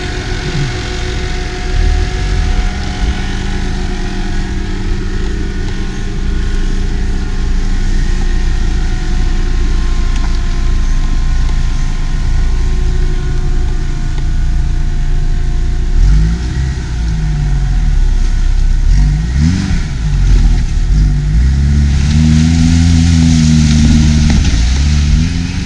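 Car engine revving hard at full throttle, a Lada Zhiguli or Niva pushing along a rough off-road track, loud and sustained with rising and falling pitch sweeps of acceleration throughout.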